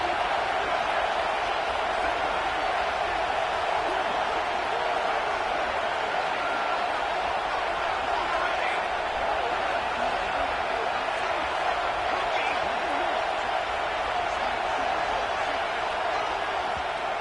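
Stadium crowd at a college football game roars in a dense, continuous wash of cheering that holds steady throughout, with no break and no voice standing out.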